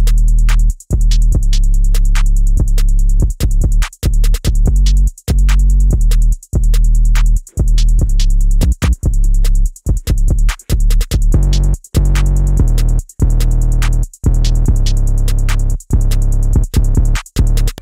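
Full pluggnb drum pattern where two alternating 808 bass lines drone under rapid crisp hi-hats and snappy hits, dense and loud throughout with short drop-outs and no voice.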